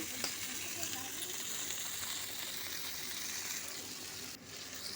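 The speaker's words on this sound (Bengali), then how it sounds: "ওই তেলের মধ্যে আমি আর একটু তেল দিয়ে এখন মাছগুলো ভেজে নেব লাল লাল করে" Fish frying in a pan of hot oil, a steady broadband sizzle and hiss filling the whole stretch at close range, with no break in the texture.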